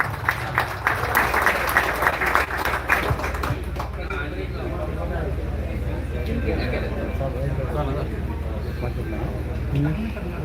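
A crowd at a welcome ceremony claps for a few seconds, a dense patter of hands that fades into murmuring voices and room noise.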